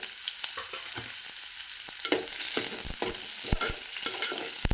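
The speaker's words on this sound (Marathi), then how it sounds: "आता आपण कांदा टाकणार आता चांगला आपल्याला परतून घ्यायचं" Chopped onion goes into a pan with garlic, coconut and coriander and is stirred, with clicking, scraping strokes over a soft, steady sizzle. It is fairly quiet and no one speaks.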